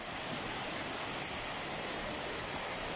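A waterfall pours over rocks at a stony bathing spot, making a constant broadband rush that stays steady and moderately loud throughout with no voices.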